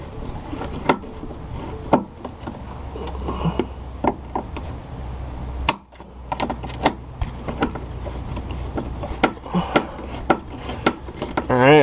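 A screw is turned by hand to fit a plastic-clipped mud flap on a 2015 Subaru WRX, giving close, faint scraping and rubbing with scattered clicks and a low background hum.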